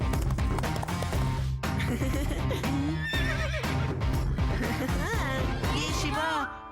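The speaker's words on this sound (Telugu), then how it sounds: "అదిగో శివ చూడు, గుర్రం మీద స్వారీ చేస్తున్నాడు" A horse neighs while being ridden, in an animated episode, with several rising and falling whinnies toward the end over dense, busy background sound and faint hoof noise.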